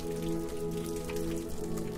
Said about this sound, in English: as the rain continues its tender lullaby outside your window